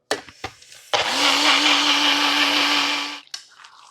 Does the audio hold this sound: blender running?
yes